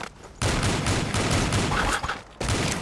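Dense, rapid gunfire from the online shooter Avatar Star, a near-continuous fusillade of overlapping shots with brief gaps, loud and close, no talking.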